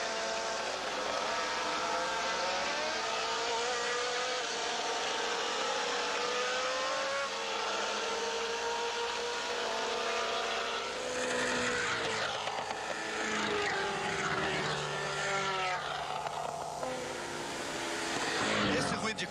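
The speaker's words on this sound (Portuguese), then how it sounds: "Esse ruído de carro que você vê, ele é absolutamente original, do local. Microfone ali colocado, pegando do carro quando ele passa pela câmera" Race car engine at the Brazilian Grand Prix circuit, a loud sustained harmonic whine shifting in pitch as the car accelerates and passes a trackside microphone, with a second swell of engine noise toward the end.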